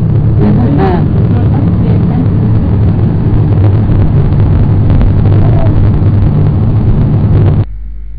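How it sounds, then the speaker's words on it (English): A tractor lorry passes close by outdoors, a loud, steady engine roar with heavy low rumble and wind buffeting the microphone that holds for about seven seconds, then drops off sharply near the end. "Because there's a tractor lorry."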